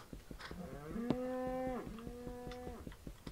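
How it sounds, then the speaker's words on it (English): Cattle in the Minecraft video game give a long, drawn-out moo followed by a second, shorter moo, fairly close over a faint noisy background. "All I can hear is cows."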